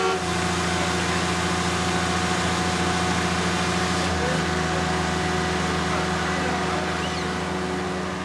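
A constant, loud diesel engine rumble with steady tonal hum, running unbroken from start to finish, a slight shift in pitch midway.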